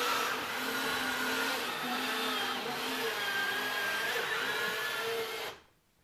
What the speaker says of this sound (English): So that noise is Rex getting into a seated position.